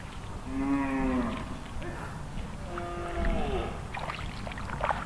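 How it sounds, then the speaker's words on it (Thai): Cattle moo in a forest during a thunderstorm, giving two long, low, drawn-out calls at moderate distance over steady rain-like background noise. "วัวเริ่มเดินออกมาแล้ว"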